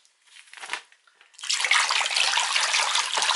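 Water pours into a bowl being prepared with baking soda to clean hairbrushes, a brief splash, a short pause, then a steady close rushing stream.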